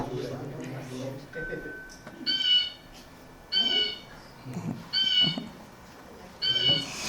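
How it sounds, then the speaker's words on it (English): Four loud, harsh bird calls repeat at roughly even intervals, each a short raspy burst, with quiet talking and room noise between them. "Okay, the blue jay. We'll hear the call over here."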